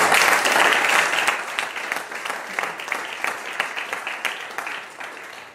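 An audience applauds a club member at a committee installation ceremony, dense clapping that starts strong and gradually thins and fades over several seconds.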